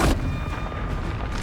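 Confringo spell blast in the video game Hogwarts Legacy, a single short booming burst at the start that quickly fades into a low rumbling tail.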